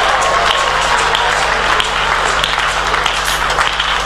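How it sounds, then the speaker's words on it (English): A church congregation claps and shouts together in a continuous loud wash of applause and raised voices, sustained evenly from start to finish. "Just clap and shout."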